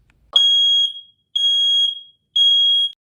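A household smoke alarm sounding three loud, piercing, evenly spaced beeps, each about half a second long, with short silent gaps between them and no other sound.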